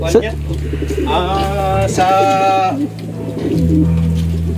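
Homing pigeons cooing in a breeding loft, a close, loud pair of throaty coos over a low hum, with voices talking faintly in the background.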